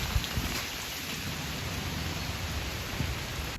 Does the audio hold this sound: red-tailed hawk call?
no